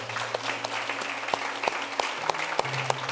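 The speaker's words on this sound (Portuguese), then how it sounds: "uma salva de palmas ao Senhor" A church congregation claps together in steady, dense applause, close and sustained throughout, with a faint voice underneath.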